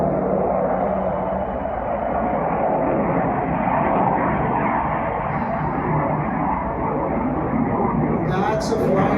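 A fixed-wing airplane passes overhead, its broad, steady engine roar filling the whole stretch at a loud, constant level with no clear rise or fade.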